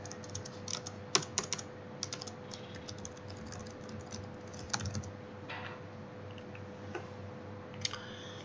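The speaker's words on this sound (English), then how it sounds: "I am typing the username." Typing a username on a computer keyboard: quiet, close key clicks in irregular bursts over a steady low electrical hum, with no talking.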